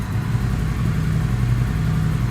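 A Royal Enfield motorcycle idles steadily on a cold start, a deep, even engine thump that runs continuously and fairly loud throughout without revving.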